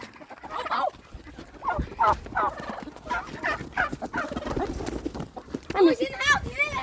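Farm turkey gobbling in repeated rattling bursts across several seconds, fairly close, with other fowl and voices mixed in around it.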